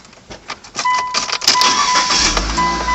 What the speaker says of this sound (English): Now to start the car.